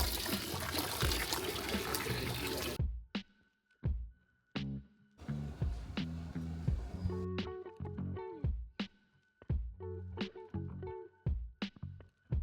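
Water gushes out of the mouth of a fountain figure somewhere in Europe, a loud rushing spray for about three seconds that cuts off, followed by a series of sharp, intermittent nearby knocks and clicks.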